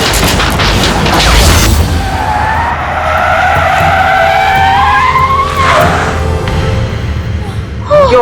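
A car on the road breaks down with a loud screech and grinding, followed by a rising, wavering mechanical whine and then a sharp jolt, with no speech.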